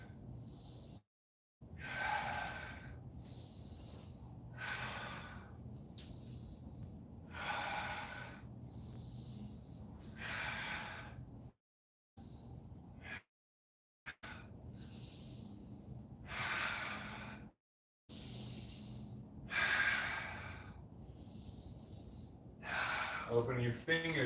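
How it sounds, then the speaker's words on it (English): Close, deliberate breaths during a forward arm-circle exercise, about eight breathy inhales and exhales at an even pace, some sharp like gasps, with short silent gaps between them. "Inhale in the back half, exhale in the front half."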